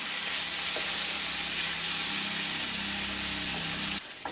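Rice fried with spices for tomato rice gives a dense, steady sizzle in the pan, loud and close, with a faint stir now and then, dropping slightly just before the end.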